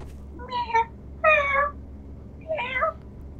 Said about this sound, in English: Oh look, there's a cat here, mate.